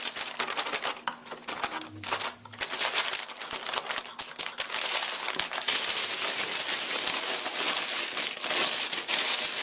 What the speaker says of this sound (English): you're going to want to get all the tape and paper off anywhere it's left in the room